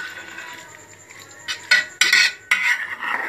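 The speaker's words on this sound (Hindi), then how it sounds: "अच्छी तरह इनमें अंडे मिक्स कर दें।" A spoon scraping and clinking in a pan as eggs are mixed into fried potato chips, quiet stirring at first, then several sharp metallic scrapes in quick bursts.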